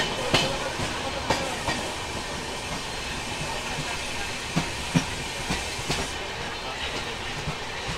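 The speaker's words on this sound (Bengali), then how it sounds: "আমাদের ট্রেন এখন পাস করছে কাথি স্টেশন।" A passenger train from Howrah to Digha runs through Kanthi station, a loud steady rumble broken by sharp rhythmic clickety-clack wheel beats on the rails.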